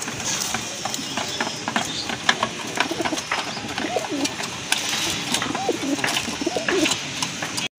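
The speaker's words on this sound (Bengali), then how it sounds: "দেখেন পুতুলের মতো সুন্দর এক জোড়া পুতুল গড়া কবুতর" Gola Giribaz and fancy pigeons kept for sale coo repeatedly at close range against a busy, noisy background, with occasional clicks and rattles.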